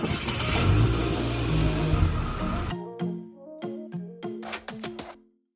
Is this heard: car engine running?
yes